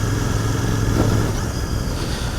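Royal Enfield Continental GT 650 with stock exhaust on an early morning winter ride, a loud, steady twin-cylinder engine drone with a deep throbbing rumble and no talking.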